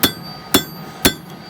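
Steel being hammered on a coal forge: three sharp, ringing metallic strikes spaced about half a second apart, loud and close, with no talk.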